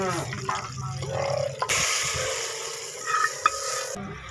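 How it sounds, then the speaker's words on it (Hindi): Onions and green chilies sizzle and crackle in a hot pan of ghee, with scraping stirs and a sudden louder burst of frying partway through. "ये मेरा प्याज ब्राउन हो चुका है और ये हरी मिर्चें, ये मैं अभी शामिल कर दूँगी"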